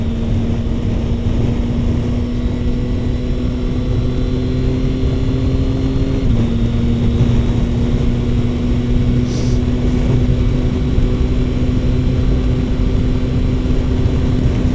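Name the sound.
wind noise riding a Yamaha Tracer 9 motorcycle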